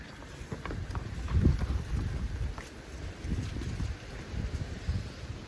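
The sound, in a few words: wind blowing, sound effect in story reading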